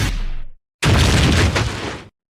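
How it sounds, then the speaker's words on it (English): A cannon firing: two loud, close booming blasts, the first tailing off before a short silence, then a longer, heavier roar that cuts off abruptly. "You call that a cannon? This is a cannon."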